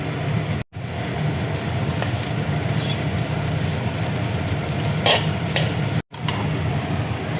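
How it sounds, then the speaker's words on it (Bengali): Vermicelli (semai) frying in ghee in a kadai while being stirred, giving a steady close sizzle with scraping stir strokes throughout, two brief cuts of silence, and no talking. "সিমইটা দেখো ভাজা হয়ে গেছে"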